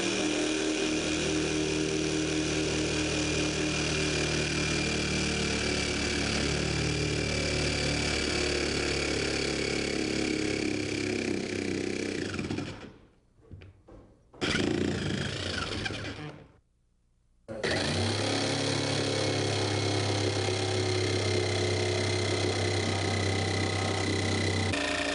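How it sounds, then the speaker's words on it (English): A power saw runs loud and steady for about thirteen seconds while plunging into a benchwork section of an O gauge Lionel train layout, cuts out briefly twice, then roars back on at full strength. "when I turn the saw on, we're going to actually go very slowly and carefully and press down hard here, and we'll actually begin a cut"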